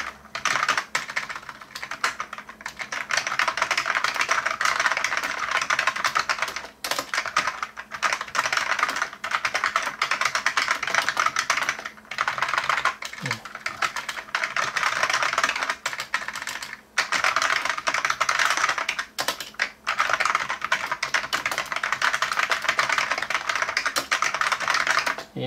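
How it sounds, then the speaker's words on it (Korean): Rapid, continuous typing on an NKEY P1 computer keyboard, close and clear, with dense bursts of key clacks broken by brief pauses and no talk. "타이핑을 제가 좀 더."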